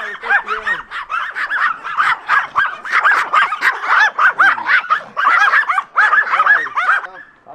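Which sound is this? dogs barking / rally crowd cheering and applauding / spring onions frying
dogs barking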